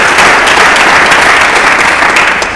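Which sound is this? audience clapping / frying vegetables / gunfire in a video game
audience clapping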